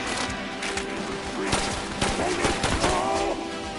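Rapid gunfire bursts in the VR shooter Synapse, dense and loud, layered with crashing impacts and game tones, continuous across the few seconds.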